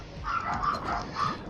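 Dogs in the video game Dave the Diver, several short barks and yips in quick succession, moderately faint over a soft game background, no talk.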